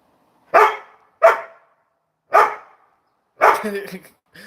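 A dog barks four times in a sparse, uneven sequence, loud and close, each bark a sharp burst separated by short pauses.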